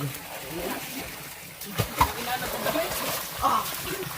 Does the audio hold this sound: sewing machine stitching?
no